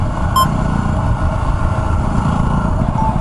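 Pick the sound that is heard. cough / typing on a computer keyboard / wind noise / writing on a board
wind noise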